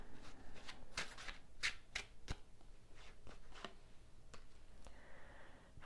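Tarot cards shuffled by hand up close, a run of quiet riffling flutters and soft slaps in an irregular rhythm.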